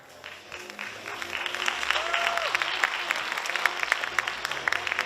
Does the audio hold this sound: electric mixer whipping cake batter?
no